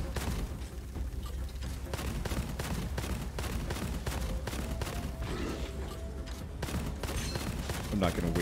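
Rapid gunfire from the co-op shooter Gunfire Reborn, dense bursts of shots crackling continuously with background game effects and faint voices underneath.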